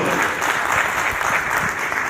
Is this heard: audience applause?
yes